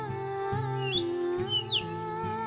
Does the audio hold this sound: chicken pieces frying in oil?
no